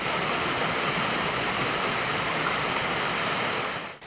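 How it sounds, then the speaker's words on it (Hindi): The Dolai waterfall in Kashmir roars steadily as water crashes down the mountainside, a loud, dense, unbroken rush that fades slightly at the very end, with no voices. "जोरों शोर से पहाड़ों का सीना चाक करके चिंगाड़ते हुए बहने वाली आबशार का पानी जमीन पर पड़ते ही सुरीले सुर में तब्दील हो जाता है।"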